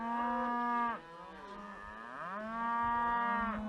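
Cattle being moved by riders on horseback moo loudly and close, with two long drawn-out calls overlapping other lowing from the herd, with no talk.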